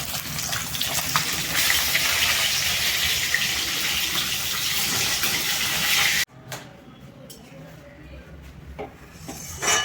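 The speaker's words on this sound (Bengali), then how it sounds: "মাছের ঝাল আমার রেডি, ঝোল ফুটে গেছে" A fish curry broth boils vigorously with a dense, loud hiss and bubbling for several seconds, then cuts to a quieter kitchen background with faint clatter.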